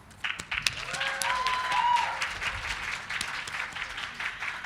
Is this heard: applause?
yes